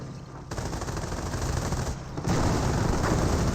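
Tank and infantry battle in Company of Heroes, Panzer Elite versus US forces, with dense rattling machine-gun bursts and rapid gunfire that thicken into a heavier barrage toward the end.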